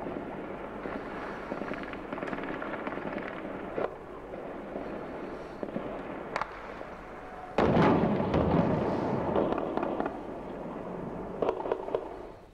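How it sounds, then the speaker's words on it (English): Scattered distant explosions and machine gun bursts from clashes in Sana'a's Hasaba district echo over a low background rumble, with one heavier blast followed by a louder stretch of rattling shots. "clashes continue in Hasaba district with explosions and sounds of machine guns being heard"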